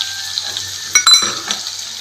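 Crushed garlic drops into hot oil in a pan with a sharp sizzle, then a soft scrape and clatter as it is stirred, a steady crackling frying close by.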